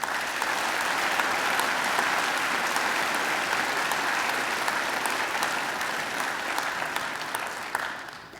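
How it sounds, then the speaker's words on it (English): A graduation ceremony audience in a hall gives sustained applause for alumni volunteers, thick, even clapping from many hands that holds steady, then begins to thin toward the end. "I think they deserve a round of applause too."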